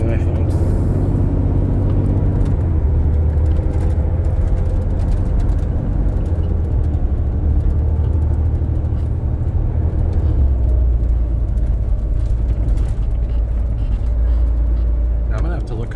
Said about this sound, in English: as you can hear from the back, you can hear the actual engine noises